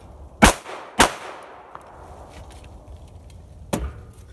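Three sharp handgun shots during a reload drill: two close together, then a pause before a third, each loud and near with a short echo tail.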